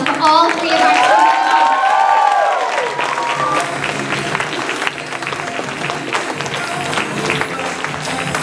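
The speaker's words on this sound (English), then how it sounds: "One more round of applause for all three of our students." An audience at a school students-of-the-month ceremony breaks into loud applause and cheering for three students. A voice calls out over the opening seconds, then steady clapping carries on to the end.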